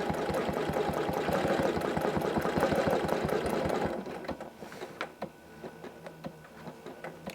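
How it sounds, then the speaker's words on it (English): Janome CM17 sewing machine running with its needle cycling up and down, a loud fast mechanical chatter for about four seconds, then dropping to quieter intermittent ticks and clicks. "that needle is just going up and down if I'm not moving"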